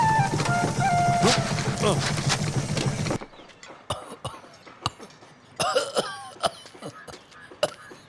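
Several harsh coughs in short, uneven bursts, close by, with a muffled voice and background noise at the start.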